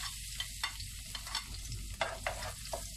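Garlic sautés in a pan for pancit, a bright crackling sizzle with several distinct stirring scrapes spaced through a few seconds.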